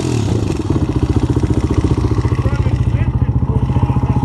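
A 2009 KTM 400 XCW dual sport enduro motorcycle engine idles and revs close by in a forest, its rapid steady thumping pulse running loud throughout.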